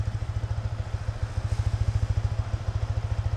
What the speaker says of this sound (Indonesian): Namanya juga motor standar, seperti gini bunyinya.